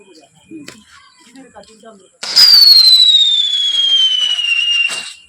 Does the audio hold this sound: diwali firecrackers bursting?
yes